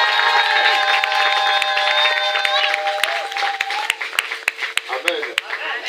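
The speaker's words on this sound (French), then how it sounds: "Est-ce que quelqu'un peut acclamer très fort pour Jésus?" Worshippers in a church seminary cheer loudly with sustained high-pitched shouts and ululation, then break into sharp, uneven claps as the crowd noise subsides.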